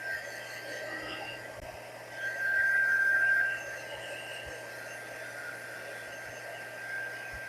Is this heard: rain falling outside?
no